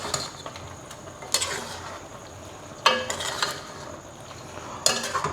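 Chicken adobo with green chilies being stirred in a pan, giving soft scraping and a few sharp utensil knocks against the metal over a low background sizzle, with no talk.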